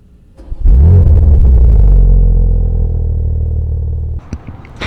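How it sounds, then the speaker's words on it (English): Modded 2024 BMW M2 making about 750 hp, its aftermarket exhaust rising into a loud, deep, close rev that holds a sustained roar for several seconds, then drops off with a crackle and a burble. "it does sound so much better, as you guys will see here in a second with a exhaust clip"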